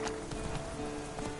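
Roach the horse galloping in The Witcher 3, with rhythmic hoofbeat clip-clops over game ambience and a steady tonal background, close and moderately loud.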